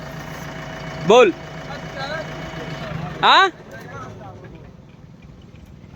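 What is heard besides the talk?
tractor engine idling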